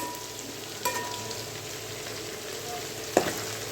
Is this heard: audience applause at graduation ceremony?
no